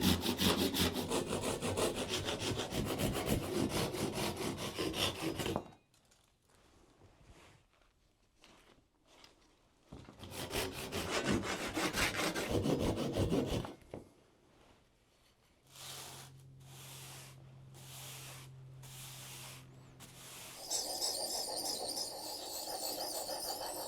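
A wooden stick being whittled and shaped by hand to fit the palm, with long stretches of steady rasping scraping broken by quieter pauses and shorter bursts of scraping, close up and without talking.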